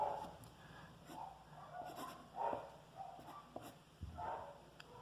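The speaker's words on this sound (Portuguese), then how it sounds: "a cachorrada tá gritando aí na rua" Several dogs out on a street barking and yelping in scattered bursts, fairly distant, over a steady background hum.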